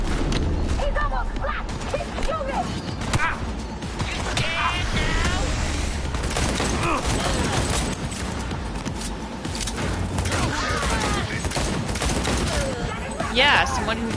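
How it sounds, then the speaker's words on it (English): Sustained gunfire in the video game Cyberpunk 2077, with dense bursts and repeated shots running throughout, loud and busy alongside music and game effects, while players talk over the shooting. "Keep shooting."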